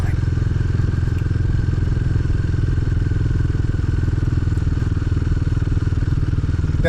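A Royal Enfield Himalayan motorcycle rides a muddy, narrow trail beside a swamp, its engine a loud, close, steady thumping drone with faint clatter over the rough ground.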